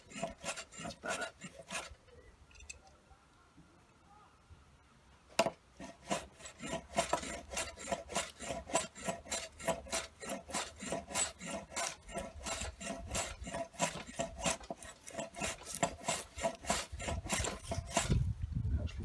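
Chisel rasping and scraping wood to cut a halving joint for extending support posts, a rapid run of strokes repeating steadily and close, growing busier toward the end.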